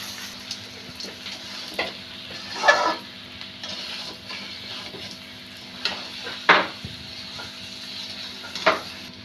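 Pickle cooks in oil in a pan, with a low steady sizzle under occasional sharp scrapes and clinks of a spoon stirring against the metal.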